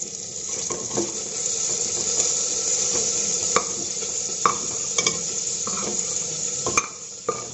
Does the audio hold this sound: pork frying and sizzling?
yes